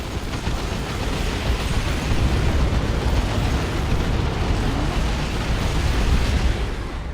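A generator farm is destroyed in a real-time strategy match, with a continuous, loud, roaring explosion rumble that sustains for several seconds and swells again near the end, with no talking over it.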